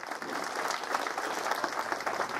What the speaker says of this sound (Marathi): त्याबद्दल या दाम्पत्यासाठी सुद्धा एकदा जोरदार टाळ्या होऊन जाऊ द्या